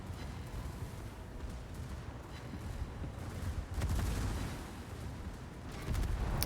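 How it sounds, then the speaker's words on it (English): Secondary guns of a Tier 10 German battlecruiser, the Schlieffen, firing on both sides in World of Warships, a continuous barrage of booming shots and rumbling blasts, swelling louder in bursts toward the end. "Secondaries firing both sides, torpedoes going."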